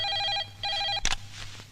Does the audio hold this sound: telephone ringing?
yes